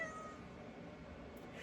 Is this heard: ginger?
no